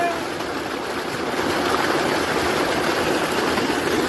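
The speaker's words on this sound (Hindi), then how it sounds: "ये देख लो क्या झरना बना दिया टोल का" Water gushing like a waterfall into a village pool, a steady broadband rushing roar that stays constant and fairly loud throughout.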